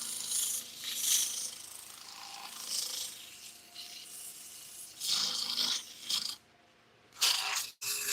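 Sandpaper rubbing against a spinning workpiece on a wood lathe, a close, breathy rasp that swells and fades in repeated passes with brief pauses between strokes.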